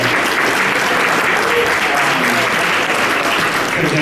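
Sustained applause fills the room at a 2014 Sundance Film Festival Q&A screening of Cooties, a steady dense clatter of many hands throughout with a faint voice beneath.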